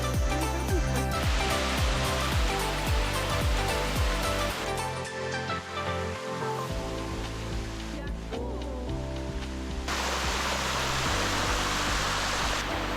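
Water rushes over the limestone Sticky Waterfall near Chiang Mai, a loud steady broadband roar that continues throughout over a rhythmic pulsing undertone.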